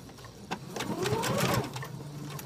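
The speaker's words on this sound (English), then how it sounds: "I'm going to go ahead and sew a seam on what's going to be the top of my pocket." Sewing machine stitching a seam along fabric for the top of a pocket, a close, rapid mechanical whir rising for about two seconds, with no talk.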